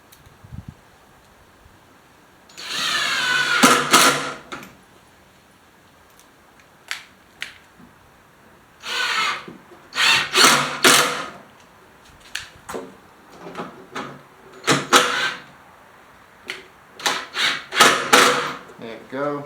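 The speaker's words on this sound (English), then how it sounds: "And put the rest of the screws in." A power drill drives screws into the side panels of a DIY wooden bookshelf, in a series of loud, close bursts of whirring, each a second or two long, separated by short pauses.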